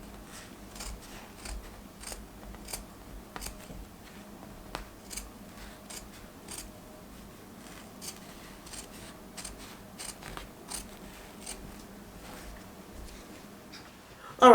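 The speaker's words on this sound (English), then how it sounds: "So I'm going to continue trimming this off" Scissors trim away excess quilt batting in a long run of quiet, irregular snips and faint clicks, close but soft, with a low background murmur.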